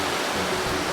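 A mountain river in the Bernese Alps of Switzerland rushes in a dense, steady wash of flowing water, close and continuous without any voices.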